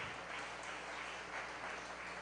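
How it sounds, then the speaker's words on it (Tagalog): A church congregation applauding for the Lord during a Filipino preaching service, a steady wash of many hands clapping together, somewhat distant and muffled, without speech. "pumalakpak ng malakas sa ating mahal na Panginoon"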